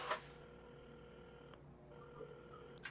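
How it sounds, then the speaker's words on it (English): A phone is dialed at a café counter in the video game Assemble with Care, with faint electronic keypad tones sounding softly over a quiet, steady hum. "at the counter, Carmen had started dialing the phone"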